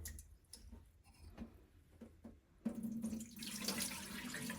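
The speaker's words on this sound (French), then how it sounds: "Et je mets l'eau." Tap water runs into a pot of rice being prepared to turn out sticky, a quiet trickle at first, then a louder, steady rush of pouring water in the second half.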